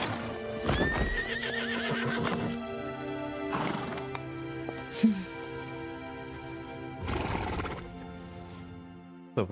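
A horse in the Silver Palace video game whinnies several times with clip-clop hooves, the neighs loud and drawn out between quieter stretches of ambient game sound.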